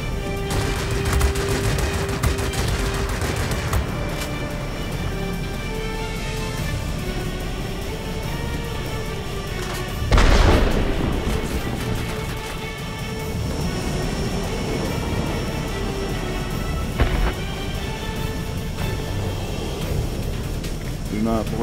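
Machine gun fire bursts from aircraft in an air combat video game, steady and dense with engine drone throughout, plus a louder blast near the middle; someone talks over it.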